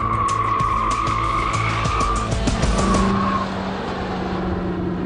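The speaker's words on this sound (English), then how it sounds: "This test shows how the car's suspension holds up to driving in a tight circle." A Corvette driven hard in a tight circle during a handling test, its tires squealing steadily and loudly over the sustained engine note, with no talking.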